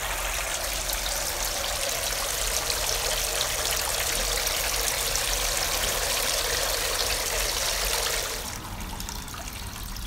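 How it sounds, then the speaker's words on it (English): Aquaponics spray bar at full blast, a loud, close, continuous hiss and splash of spraying water that drops off sharply near the end, leaving a softer trickle. "I have a clip here that I can show you of the spray bar on full blast."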